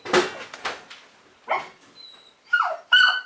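Dogs in a training session bark, yip and whimper in short separate bursts, close and fairly loud, with high whining tones near the end and quiet gaps between.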